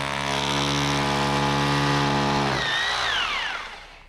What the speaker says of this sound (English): I put this into my SDS drill, simply drill into this pilot hole.